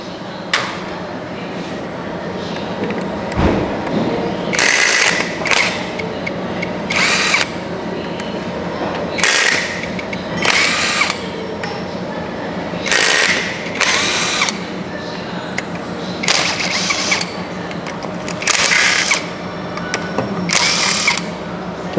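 A power tool whirs in repeated short bursts while backing out the screws around a car's automatic gearbox, each spin loud and close, separated by brief pauses and handling clatter.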